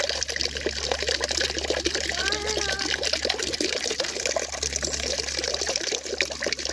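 Water runs and splashes steadily from a campground water source at Pigeon Lake Provincial Park, close and continuous, with a brief voice-like tone in the middle.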